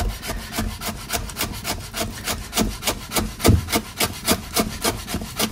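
A sharp knife finely chopping a bundled fagot of parsley on a board, rapid rhythmic knocking strokes at a steady pace, close and clear, no voices.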